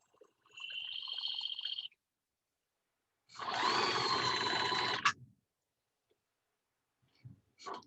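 A sewing machine stitches fabric on a costume piece, pivoting and running across a corner: one short steady burst, a pause, then a longer louder run ending in a clack, with faint handling noises after.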